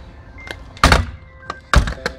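A metal door on a custom horse trailer is swung shut, landing two heavy, resonant thunks close by, with lighter taps and rattles of the latch between them.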